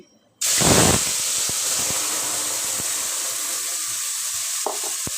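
Ground onion, garlic and ginger paste hits hot oil with fish in a wok and bursts into a loud sizzle after a moment of quiet. The sizzle then holds as a strong, steady hiss, broken by a few faint knocks and clinks.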